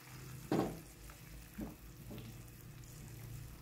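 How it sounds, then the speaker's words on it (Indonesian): Baby corn and carrot stir-fry being stirred in a pan, with a few distinct scraping, clattering stirs over a low steady sizzle, fairly close and no talking. "lalu aduk-aduk."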